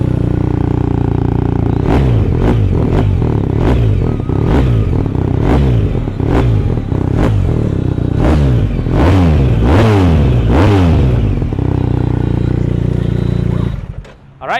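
A 2019 BMW R1250RT motorcycle with an Akrapovic exhaust idles loudly up close, then takes a series of sharp throttle blips, about a dozen revs rising and falling rhythmically, before dropping back to idle and shutting off.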